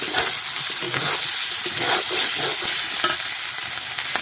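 Chicken masala frying in a pot after water is poured in for a fig and chicken curry, giving a loud steady sizzle and bubbling hiss with scattered stirring scrapes throughout, no voices.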